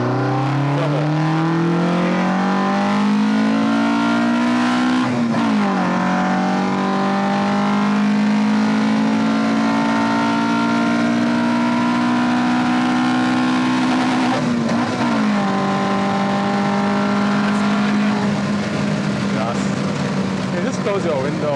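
A modified Opel (Vauxhall) Kadett Big Boss engine revs loud and close, holding high sustained revs with a rising pitch and two brief dips before it climbs again.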